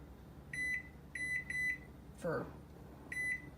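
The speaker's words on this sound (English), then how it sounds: "And now let's set the timer" Oven timer being set, four short electronic beeps in an uneven pattern, close and clear, with a brief spoken word between them.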